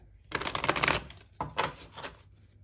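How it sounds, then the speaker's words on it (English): Tarot cards are riffled in a quick burst, then two shorter shuffles follow, close and crisp with no talking. "we'll go ahead and just do a final shuffle"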